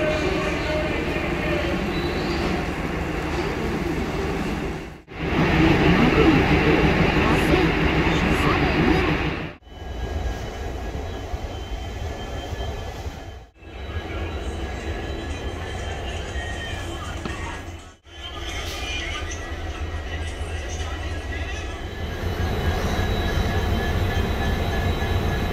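A Kolar DEMU diesel passenger train stands just off the platform while being refuelled, its engine giving a steady close rumble broken by a few brief drops, with a voice talking over it.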